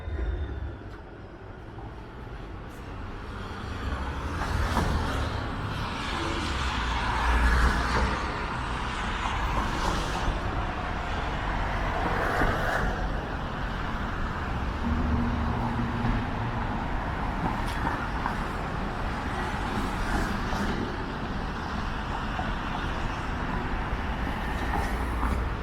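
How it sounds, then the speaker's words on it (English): The 512 St. Clair streetcar rolls along a Toronto street, a steady mid-level rumble and rail hum with city traffic noise around it, no voices. "There's the 512 St. Clair streetcar."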